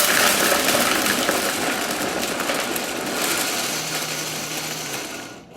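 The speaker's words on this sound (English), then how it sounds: "Let's just blend this up right now. I'm sorry, I'm gonna make a little bit of noise right now." A Vitamix blender runs loud and steady, blending purple ice cream ingredients with a dense roaring whir that eases slightly toward the end before cutting off.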